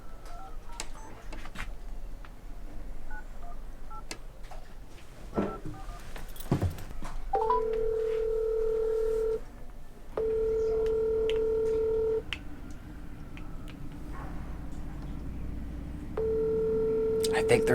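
Telephone call being placed: a quick run of DTMF keypad tones followed by repeated ringback tones in long even bursts separated by pauses, with background speech and noise in between.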